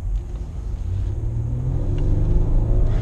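Low rumbling Nissan Murano engine, a six-cylinder, building steadily as it accelerates, heard close and growing louder over a few seconds.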